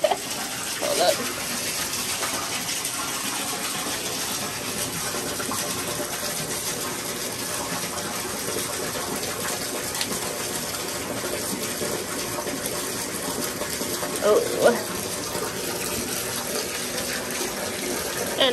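Tap water gushes steadily into a filling bathtub, a continuous close rushing splash that runs unbroken, with a couple of brief louder knocks near the start and middle.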